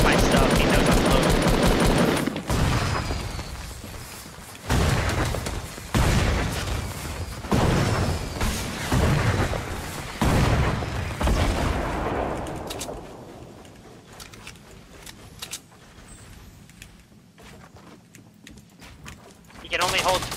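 Fortnite gunfire and explosions come in repeated loud bursts that thin out toward the end, with players talking throughout.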